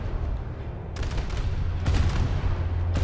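Cruiser secondary batteries fire rapidly during a War Thunder naval battle: sharp broadband shots in quick succession land near 1, 2 and 3 seconds over a steady low rumble of engine and sea noise.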